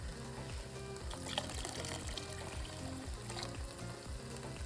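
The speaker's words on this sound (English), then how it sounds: "I'm mixing it together." Ingredients for a vegan barley soup are stirred in a pot of broth, with continuous wet sloshing and a faint sizzle and bubbling throughout, and no one speaking.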